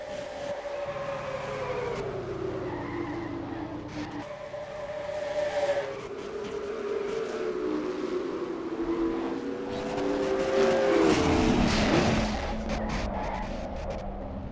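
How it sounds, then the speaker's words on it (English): Stock car race crash: engines whine and drone steadily as several cars skid and collide, the noise swelling into a louder scraping roar near the end, with no talk over it. "That crash just took out several really good cars out of this race."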